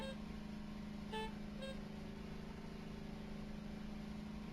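A car horn honks twice in quick short toots inside the Voices of the Void video game, over a steady low engine-like drone and hum, with no talking.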